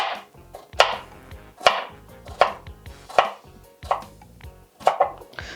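A knife chops through an onion on a cutting board, striking in a steady series of about eight sharp, close knocks with brief pauses between them, no voices present.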